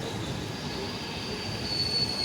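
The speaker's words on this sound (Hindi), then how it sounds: "बिल्कुल ऑन टाइम अपनी पूर्वांचल एक्सप्रेस वर्धमान से डिपार्ट कर दी है।" The Purvanchal Express departing Bardhaman station, its wheels squealing with a high sustained metallic whine over a steady low rolling rumble of railcars, moderately loud and continuous.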